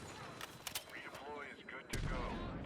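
Gunfire in the video game Battlefield REDSEC, a few sharp bursts of shots in the mix before a heavier rumbling blast, under players talking over voice chat.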